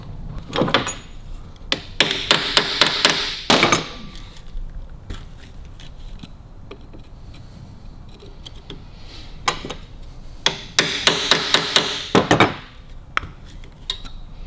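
Sharp metallic taps from a hammer striking a flat screwdriver seated in a countersunk screw on the aluminium kickstart casing of a Harley-Davidson WLA, heard as two close clusters of rapid, loud strikes separated by quieter handling clatter.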